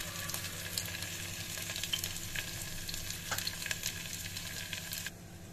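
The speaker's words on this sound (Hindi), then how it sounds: "तेल मेरा हो गया, अब इसमें हम प्याज डालेंगे।" Onions sizzle in hot oil in a home kitchen, a steady, fairly quiet hiss with occasional crackles and stirring scrapes, continuous for several seconds before easing slightly at the end, with no one speaking.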